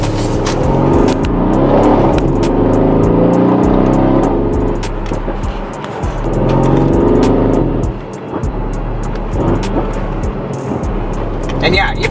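A Mercedes C63 AMG with a 7-speed transmission accelerates hard, its engine surging and rising in pitch with quick gear changes in between, heard from inside the cabin beneath someone talking steadily.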